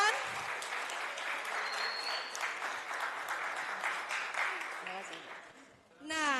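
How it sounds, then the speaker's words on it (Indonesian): A lecture-hall audience at a university public lecture applauds a young guest speaker, a talent manager. Dense, steady clapping fills most of the clip, with some voices mixed in, then fades near the end. "Kita kasih tepuk tangan"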